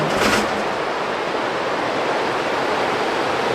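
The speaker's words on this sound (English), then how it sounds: "You hear the river now." A river in northwest Colorado, swollen with early-summer snowmelt, rushes steadily outside a back door, a broad continuous roar of water with a brief brighter splash at the start.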